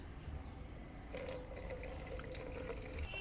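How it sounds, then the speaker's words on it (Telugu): Liquid tobacco fertilizer is strained into an 8-litre spray bottle, a soft, steady pour that begins partway through and trickles faintly on its own. "దీన్ని ఇట్లా వడపోసుకోవాలండి."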